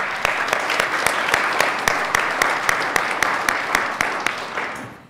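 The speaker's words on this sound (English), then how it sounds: "I definitely want to take a moment as well to applaud for all the parents that are here with us tonight." An audience at a school board meeting applauding parents, a steady, dense wash of clapping from many hands that holds evenly and fades out at the end.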